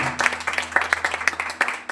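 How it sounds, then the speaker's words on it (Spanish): A church congregation applauding during a service, with a steady stream of overlapping claps and a few sharper, louder claps standing out, over a low hum. "Denle fuerte el aplauso al Señor"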